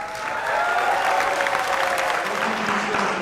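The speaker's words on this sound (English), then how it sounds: "This gets applause because..." Audience applause after a campaign speech by a candidate for governor: dense, steady clapping from a crowd, loud and continuous for about three seconds with no talk over it.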